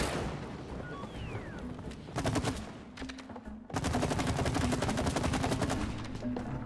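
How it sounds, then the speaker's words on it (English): Rapid gunfire from the co-op video game It Takes Two: a short burst of quick repeated shots, then a longer sustained volley over busy game background sound, with light talk in places. "let me try to shoot that thing then"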